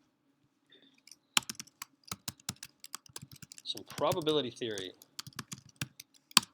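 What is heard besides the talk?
typing on a computer keyboard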